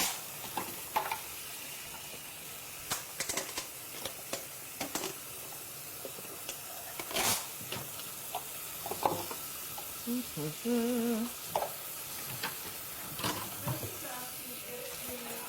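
Gravy stirred and cooked on a stove sizzles in a pan, with soft scraping stirs and scattered spoon clicks against the pot, a voice talking briefly in the background.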